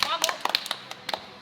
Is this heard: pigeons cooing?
no